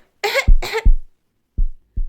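A child coughs twice in quick succession on request during a pretend doctor's check-up, close and fairly loud, followed by a couple of soft, low thumps after a short pause.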